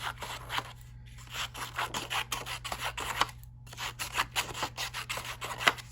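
Scissors cut paper strips freehand for paper weaving, giving a soft, continuous run of close rasping and snipping against a low steady background hum.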